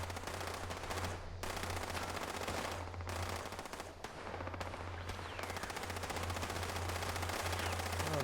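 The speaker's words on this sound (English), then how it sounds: "Who are they shooting at?" Rapid automatic gunfire in a video game, long sustained machine-gun bursts with short pauses, loud and continuous over a low background hum.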